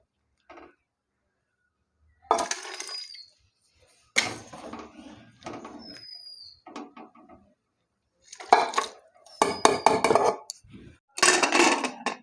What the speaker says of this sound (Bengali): এখন আমি প্রেসার কুকারে ঢেলে নেব।